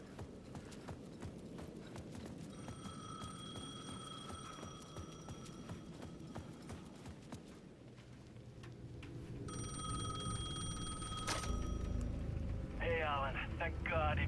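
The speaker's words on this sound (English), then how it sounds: "The payphone at the edge of the plaza was ringing again." A payphone at the edge of a plaza rings in Alan Wake 2, its bell tones sounding in two separate bursts over a steady background of ambient clatter and noise, with no voices.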